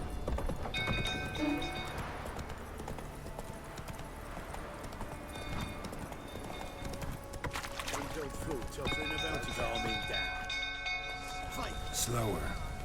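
Roach, the horse in The Witcher 3, gallops in a steady rapid clip-clop of hooves throughout, with a faint whinny, a bell and voices talking over the running.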